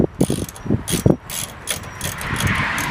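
A ratchet wrench clicks in quick bursts of sharp pawl ticks while loosening brake caliper bolts on a 2007 Dodge 1500 2WD truck, close and loud, with several separate turns.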